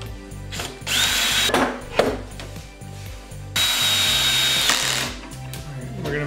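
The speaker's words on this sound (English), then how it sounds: "I'm just gonna put the screws in for the bottom and side pieces." A power drill whines in several bursts as it drives screws into wooden sign pieces, its motor rising and falling close by, with clicks and handling knocks between runs.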